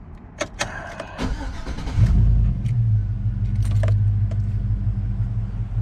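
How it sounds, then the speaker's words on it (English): A 2004 Chevrolet Tahoe heard first as a few sharp clicks and jingles, then the engine cranks and catches, settling into a steady low idle rumble close by. "let me crank it so you can hear how it runs"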